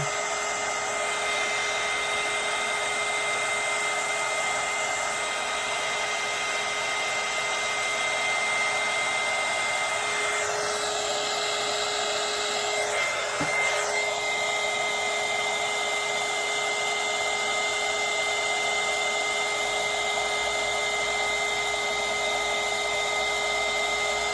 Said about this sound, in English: my heat gun, the pressure of my heat gun made it change direction